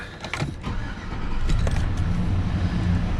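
Keys jangle briefly, then a Chevrolet Silverado pickup's engine catches and settles into a steady, close rumbling idle that fills the rest of the moment.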